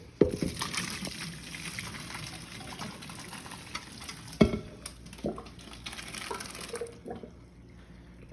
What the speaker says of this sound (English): So the pasta timer just went off, so it's time to drain the extra water